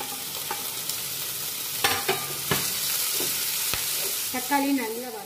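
Curry leaves and tomatoes fry in a pan for an egg curry, giving a constant soft sizzle broken by several sharp scrapes and knocks of stirring, with a brief bubbling spurt near the end.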